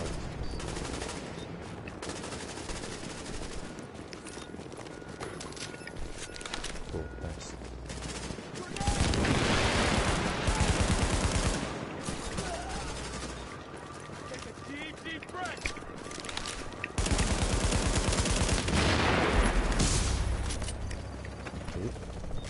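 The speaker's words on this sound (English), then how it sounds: "Someone's shooting at him." Gunfire in The Division, a loud rattle of automatic weapon shots in two long bursts amid steady background game noise, with a player talking over it.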